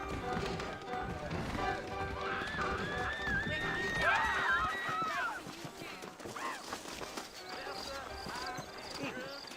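Horse hooves clip-clop in the Red Dead Redemption video game, a quick rhythmic patter of hoofbeats under a whinny-like tonal sweep and background game sounds, with speech-like voices mixed in.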